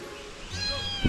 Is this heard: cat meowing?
yes